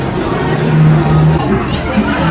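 A crowd of visitors gathers in front of a tank at the Monterey Bay Aquarium, producing a dense, steady babble of many voices and chatter, loud and close throughout.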